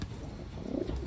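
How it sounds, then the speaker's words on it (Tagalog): A pigeon, one of a batch of newly arrived Taiwan birds, gives a brief low coo, soft and close, with no talking over it. "Malaki, malaking ibon."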